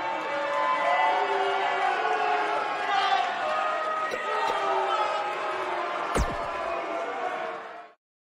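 Arena crowd in the WWE 2K19 wrestling video game roaring and cheering in a steady, dense wash that holds throughout and cuts off sharply at the end, with a commentator's voice over it.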